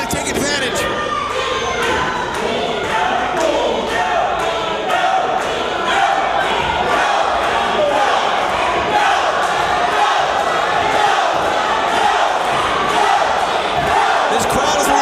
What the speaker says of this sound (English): This crowd is electric as the Lone Ranger and El DeVito Gino.